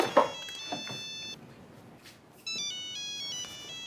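A mobile phone plays a bright electronic ringtone in a home scene from a romantic drama, its tonal pattern stopping after about a second and then starting again, with soft movement noises in between.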